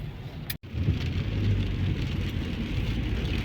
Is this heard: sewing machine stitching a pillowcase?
no